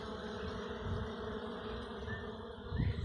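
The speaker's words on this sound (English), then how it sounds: "they're already fanning the entrance, trying to tell their sisters" Honeybees fan at the entrance of a swarm trap, giving a steady, dense buzzing drone that holds close and even throughout, with no voices.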